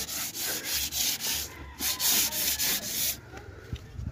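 Sandpaper is rubbed by hand over a boat hull painted yellow gold, making close, rhythmic scratchy strokes in a steady back-and-forth pattern before trailing off into lighter scraping.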